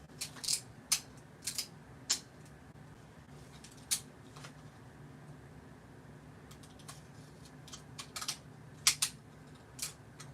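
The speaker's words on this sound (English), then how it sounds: "let's cut this with these scissors that don't like me" Sharp, quiet snips of scissors cutting paper come in scattered bursts over a soft background hum.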